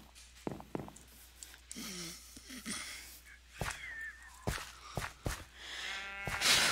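A cow in a survival video game gives a low, drawn-out moo partway through, surrounded by sharp clicks, thumps and other game sound effects.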